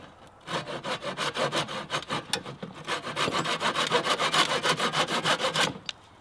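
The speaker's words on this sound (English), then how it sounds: "I take my hand saw and I cut that little corner off" A hand saw rips through a small wooden corner with steady, rhythmic back-and-forth strokes, close and crisp, about a dozen quick rasping passes before the piece drops free.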